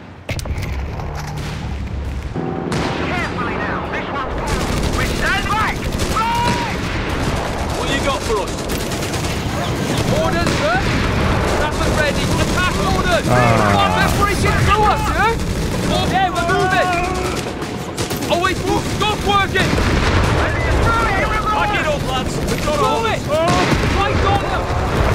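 Anti-tank guns firing in a Company of Heroes 3 battle, booming shots and rattling gunfire layered densely over a continuous loud combat din, with someone talking throughout.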